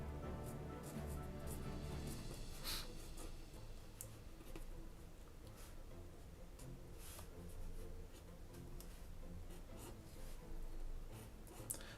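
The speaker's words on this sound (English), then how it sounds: "So I'm sketching on 140-pound watercolor paper." A pencil sketches on 140-pound watercolor paper with a soft, continuous scratching and rubbing, close and quiet, broken by brief ticks of strokes; no talking.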